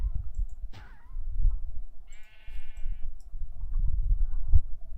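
Two sheep bleating in the Minecraft Heresy modpack, a couple of wavering game-style bleats rising above a low background rumble, with a brief higher squeak early on and no talking.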